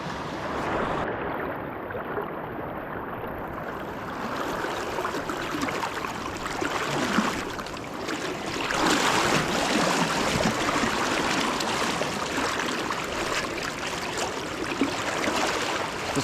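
Fast-flowing river water during winter steelhead fishing, a continuous broad rushing wash heard from mid-river, swelling louder partway through and holding steady, with no talking.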